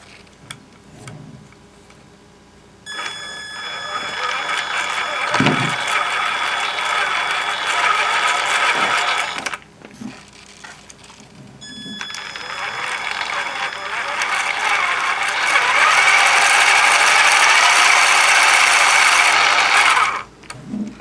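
A Traxxas Summit RC truck drivetrain with a new Titan 775 motor, spun up twice in two long bursts of loud, close mechanical whirring and gear rattle, separated by a short pause with brief handling noise.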